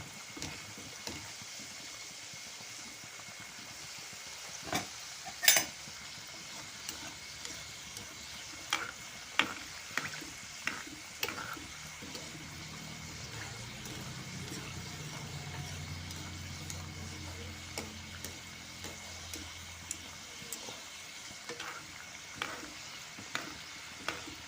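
Modaks frying in oil while being stirred constantly, a soft steady sizzle with scattered light clicks of a spoon against the pan, fairly quiet throughout.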